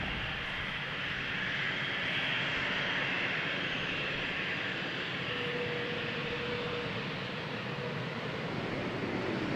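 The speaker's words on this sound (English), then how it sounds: "Embraer 190 in the foreground, outbound Dublin" An Embraer 190 jet airliner departing Amsterdam Schiphol, outbound to Dublin, gives a steady broadband engine roar that holds loud and constant throughout, heard from a distance with no talk.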